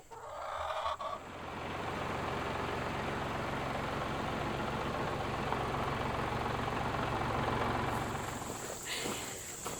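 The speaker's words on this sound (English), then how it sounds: "So I just pulled the tractor out" A tractor engine idles and runs steadily at moderate distance on a farm pasture, a continuous low rumble with faint fowl sounds around it.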